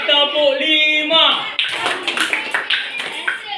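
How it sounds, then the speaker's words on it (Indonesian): Schoolchildren in a classroom clap a rhythmic pattern after a teacher's spoken prompt. The sharp, evenly spaced group claps follow a voice and repeat in a steady beat for about two seconds. "Beri tepuk 5."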